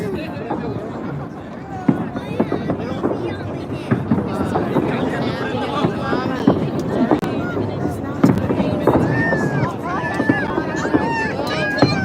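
Fireworks crackle and pop in a steady stream of sharp bursts in Las Vegas while several people chatter nearby.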